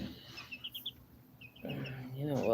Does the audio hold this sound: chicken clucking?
yes